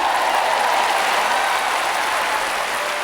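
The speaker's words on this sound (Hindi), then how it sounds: "तालियां बजाकर खुश होइए" An audience at a sermon applauding, a dense, loud, steady wash of many hands clapping close by with no voices over it.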